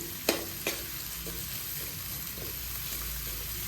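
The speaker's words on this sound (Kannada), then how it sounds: "ಈರುಳ್ಳಿ ಸ್ವಲ್ಪ ಬ್ರೌನ್ ಆಗೋ ಥರ ನೀವು ಫ್ರೈ ಮಾಡ್ಕೊಳ್ಳಿ" Thick-cut onions frying in a pan over a low flame, a soft continuous sizzle near the mic with two sharp utensil taps at the start and light stirring afterward.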